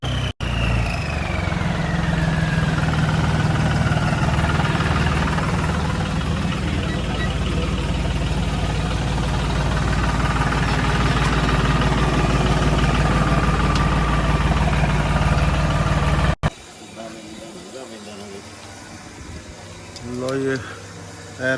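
A steady, low John Deere 5105 tractor engine idle rumbles continuously at close range for most of the clip, then cuts abruptly to a quieter scene.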